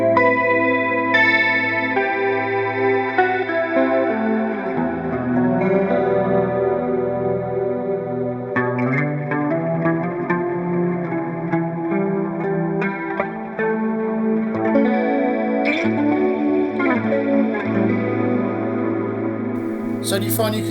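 Electric guitar played through a Line 6 Pod HD500X multi-effects unit with chorus and distortion, sustained chords and melodic lines ringing with a swirling, overdriven tone, loud and steady throughout with no talking.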